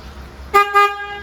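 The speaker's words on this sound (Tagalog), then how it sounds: "pakinggan nyo yung busina natin" Two short, loud honks from a motorcycle horn, a bright buzzy tone sounding twice in quick succession.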